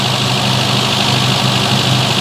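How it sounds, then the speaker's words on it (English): An Opel CIH engine runs on fast idle with slight valvetrain clatter, a steady, close and loud mechanical hum and chatter with no pauses and no voices. "It's on the fast idle. There's a little bit of clattering I can hear."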